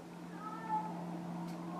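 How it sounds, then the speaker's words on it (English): A house cat lets out a single odd, drawn-out meow indoors, faint and wavering, with a low steady hum in the background. "i got a cat making a funny noise"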